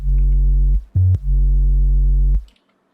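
A deep sub bass synth note from an electronic track sustains steadily, stops briefly, returns with a short higher blip, then holds again before cutting off, alone with no voices.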